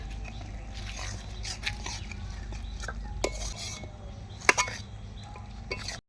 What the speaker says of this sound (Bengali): এই মশলাটা একটু কষিয়ে নেবো হালকা করে